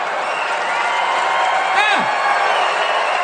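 A stand-up comedy club audience laughs, applauds and cheers in a steady, dense roar that continues throughout, with a brief whoop rising out of it.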